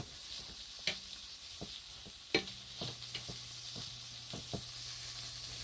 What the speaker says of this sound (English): let's just go ahead and saute that